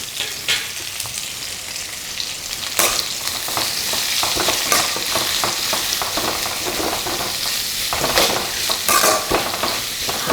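Two medium onions, sliced lengthwise, fry steadily in hot oil for restaurant-style red chilli chicken, a continuous crackling sizzle with scraping stir strokes near the pan and no talk.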